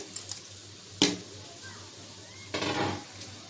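Rice is stirred with beef in a pot while beef biryani cooks: quiet scraping with a sharp clink near the start and a longer burst of metallic scraping later.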